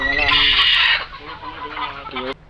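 Native desi chickens clucking up close on a village poultry farm, a burst of loud squawky calls followed by quieter scattered clucks.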